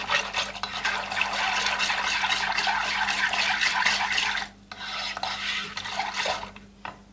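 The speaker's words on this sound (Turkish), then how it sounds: "Bunu çırpıcı yardımıyla içerisinde toz kalmayacak şekilde arkadaşlar iyice çırpıyorum." Pudding mix being whisked by hand in a bowl: a steady, close scraping and clicking of a whisk against the dish that runs for several seconds, pauses briefly, then resumes more unevenly with no talking.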